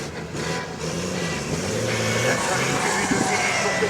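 A monster truck engine rumbling at an outdoor stunt show, a steady loud low drone with slight rises in revs, under faint crowd and announcer noise.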